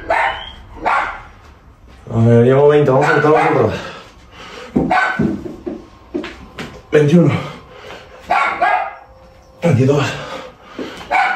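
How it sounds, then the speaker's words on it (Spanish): A female dog barking again and again indoors, loud, close yips and barks coming in bursts, mixed in with someone talking and counting aloud in Spanish. "Que la perra no deja de ladrar."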